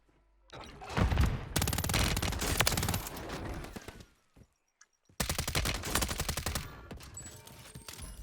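Sustained automatic gunfire in Warzone, two long dense bursts of rapid shots separated by a brief quiet gap, loud and close, with no talking.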